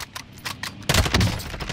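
A rapid burst of close gunfire in Call of Duty Modern Warfare, several sharp shots fired in quick succession, then a denser loud volley that keeps ringing.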